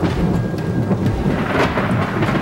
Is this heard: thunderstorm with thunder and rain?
yes